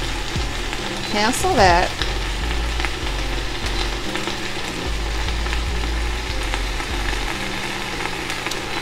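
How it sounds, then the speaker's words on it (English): Collard greens sauté in an Instant Pot with a steady, faint sizzle and frying hiss. A short clatter and a brief voice come early, then a low hum continues underneath. "I think it's sauteing a lot now"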